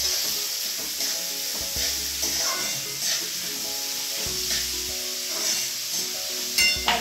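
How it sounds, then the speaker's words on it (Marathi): Chopped onion frying in a pan for a baby prawn masala, giving a dense, steady sizzle and hiss with soft scraping stirs throughout, close and fairly loud, with no voices. "आता कांदा व्यवस्थित भाजला पाहिजे,"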